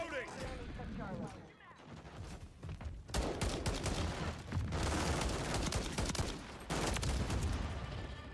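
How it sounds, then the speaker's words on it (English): Bursts of automatic gunfire and shots in a multiplayer shooter video game, dense crackling volleys with a short lull near the start, heard with game voice lines over the action. "Taking effective fire."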